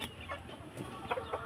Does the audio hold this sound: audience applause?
no